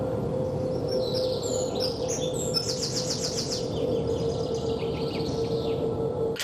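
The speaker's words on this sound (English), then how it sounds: "they just went out and recorded the Jubilee line and a bit of canal bird song" Birdsong recorded by a canal, used as an ambient sound effect on Big Brother: steady chirps and tweets over a constant background hum and rumble, continuing throughout.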